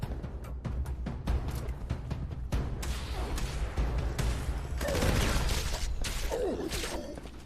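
Fallout 76 gunfire, a run of sharp repeated shots and bursts with mechanical clatter, close and loud across the whole stretch.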